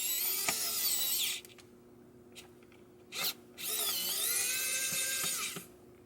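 A WowStick 1F Plus electric screwdriver whines at high pitch while driving a screw, with two sustained bursts of motor noise separated by a short blip and a pause, close and clear, the second run dipping briefly as the motor bogs down.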